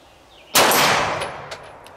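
A Walther PDP pistol fitted with a Holosun 507C red dot sight is fired once outdoors, a sharp close crack with a ringing tail that fades over a second or more, and faint clinks follow.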